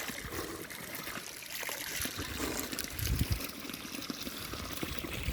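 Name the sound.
spring water flowing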